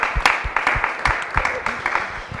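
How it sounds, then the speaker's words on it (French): A television studio audience applauds the sign-language interpreter with a brisk patter of hand claps and some heavier thumps, moderately loud and continuing throughout. "on va applaudir d'abord Jafé, s'il vous plaît"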